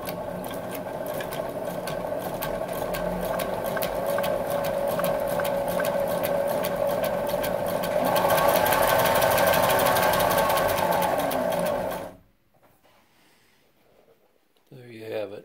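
A Family Sew sewing machine driven by a Cuda crank wheel and its original 1.5 amp motor runs with a loud, continuous rapid stitching whir that rises slightly, then stops abruptly, leaving near silence and a brief voice at the end.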